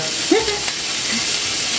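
Continuous loud sizzling and crackling of salmon steak frying in a little oil, close up, with a faint brief vocal sound near the start.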